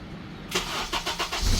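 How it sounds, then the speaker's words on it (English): A 2009-2014 Acura TSX engine cranks and catches after a quiet half second, a few rhythmic starter pulses followed by the engine firing up and revving louder, close and clear. "First off, start the car."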